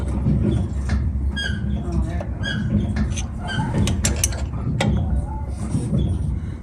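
On a 1964 Chevelle, a brake pedal pumped during brake bleeding gives a few scattered mechanical squeaks and clicks, moderately close, against a dull garage background with faint voices.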